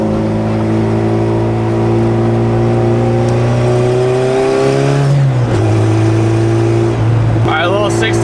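A turbocharged Honda B18C in an EG hatchback pulls hard on a highway on-ramp in a 60 mph roll, its engine tone climbing steadily through a gear and then rising again after a quick shift, loud and close from inside the car.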